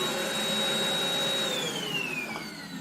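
Cordless stick vacuum cleaner running at close range, a continuous airy whoosh with a high steady whine that drops in pitch partway through, fairly loud and heard without talk.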